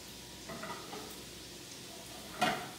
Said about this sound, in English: throw in the capers